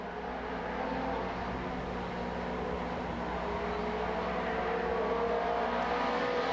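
Pro-4 modified race cars circle Lakeport Speedway in a steady, continuous engine roar that holds a sustained drone throughout, with no pauses and no voices.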